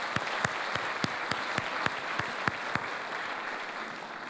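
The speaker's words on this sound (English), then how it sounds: "let's give Gary Schlossberg another round of applause" An event audience claps in a sparse, steady rhythm at moderate distance, individual claps spaced about a third of a second apart over a continuous diffuse clapping bed, with no talking.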